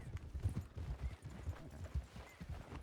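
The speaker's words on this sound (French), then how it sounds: "On s'est fait faucher par le cheval de Clarence dans le virage." Horse hooves gallop in a video game in a steady, rapid clip-clop rhythm that stays fairly faint throughout.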